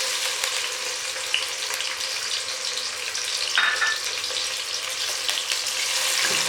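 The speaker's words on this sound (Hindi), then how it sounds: "ऑयल गर्म होना शुरू हो गया तो अब हम इसमें टमाटर और सब्ज़ मिर्चें डाल देंगे" Tomatoes and green chilies fry in hot oil for aloo bharta, making a loud, steady crackling sizzle up close, with a brief scrape or clink partway through and no voices over it.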